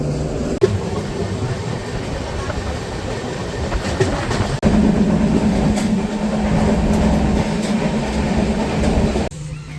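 The Mandavi Express train rumbles steadily past at close range as it arrives at a platform, with a constant roar, rhythmic wheel clatter and a brief metallic squeal.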